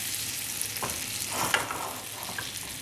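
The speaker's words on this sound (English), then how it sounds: "Melt this on a medium-low heat so the butter won't burn." Butter melting in a pan over medium-low heat: a soft, continuous sizzle with a few stirring scrapes and light taps, close and even throughout.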